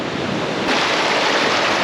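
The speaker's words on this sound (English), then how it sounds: "So the waves really come in rapid succession" Ocean surf at Playa El Tembo on the Oaxaca coast near Huatulco, a steady loud wash of breaking waves that swells louder partway through, with wind buffeting the microphone and no voices.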